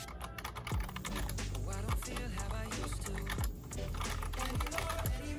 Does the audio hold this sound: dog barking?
no